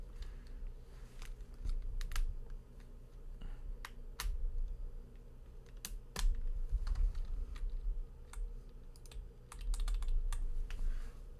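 Rapid, irregular clacking of a computer keyboard being typed on during a gaming session, with bursts of sharp keystrokes over a low steady hum, no voices.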